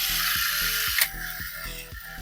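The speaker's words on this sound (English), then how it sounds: "As far as I'm concerned, that motor should be moving now." The small motor and plastic gears of a vintage 1980s Tomy Trip Over Traps toy running, a steady whirring drone with a repeating ratcheting click about every half second, close and clear.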